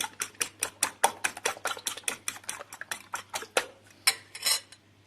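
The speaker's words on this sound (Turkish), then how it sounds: "Şöyle bir çırpacağım yumurtamı" Two eggs beaten with a whisk in a bowl: rapid, regular clinking strokes against the bowl's side, close and fairly crisp, a steady run of beats with a brief pause and a couple of final strokes near the end.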